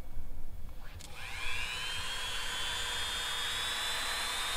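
A 10-speed Dremel rotary tool, set to speed six, spins up to a steady high-pitched whine while cutting out the latch of an RV baggage compartment door, loud and close with no talking.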